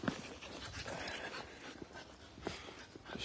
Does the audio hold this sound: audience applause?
no